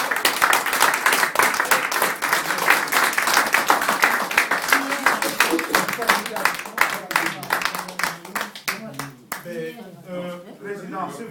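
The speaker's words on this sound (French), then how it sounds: "il mérite des applaudissements" Audience applause and clapping at a Congolese community presidential election meeting in Windsor, honoring M. Germain; dense, steady clapping for about nine seconds, with voices talking over it and the clapping thinning out near the end.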